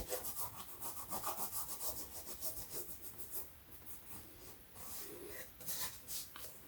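Close, steady rubbing and scraping against an old shoe's rubber sole to clear the dirt, a rhythmic brushing friction that comes and goes in short strokes, quiet and without speech.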